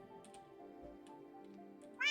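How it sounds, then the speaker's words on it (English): Minecraft cat meowing, a soft, drawn-out mew that stays faint and steady for about two seconds, then a louder, sharper meow comes in abruptly at the end. "There's a couple of cats."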